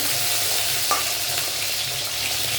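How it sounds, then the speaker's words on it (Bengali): Pieces of pointed gourd fry in hot mustard oil in a kadai, giving a steady, dense sizzle that stays even and close throughout, with no voices. "তো আমি পটলগুলো সব ভেজে নেবো ভালো করে।"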